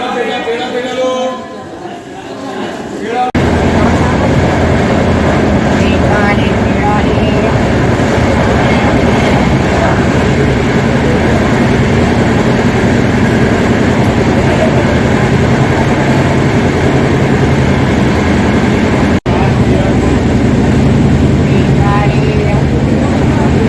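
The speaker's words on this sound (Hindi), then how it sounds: "गाड़ी है पश्चिम एक्सप्रेस जो बांद्रा से निकली थी कल 11:30 बजे" The Paschim Express at Mathura Junction in the early morning gives a loud, continuous rumble with rhythmic wheel clatter that runs steadily for over twenty seconds after a brief quieter start.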